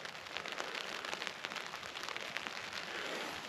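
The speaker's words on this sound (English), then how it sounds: "I'm not going to open them up because it's raining," Rain pattering steadily on a tent at an abandoned quarry campsite during heavy rain, a dense, soft crackling hiss of many close drops with no voices.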